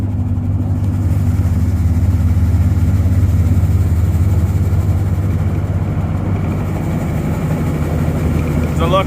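A Clipper Super 68D seed separator runs steadily, giving a smooth, even low mechanical hum and drone that stays loud and constant throughout with no breaks.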